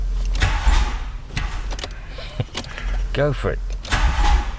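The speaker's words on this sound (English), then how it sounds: "I'm going to start the engine." A car engine cranks and catches, with a person talking nearby while the motor turns over and settles.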